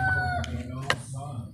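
Chickens cluck and a rooster gives short crowing calls nearby, with faint voices in the background.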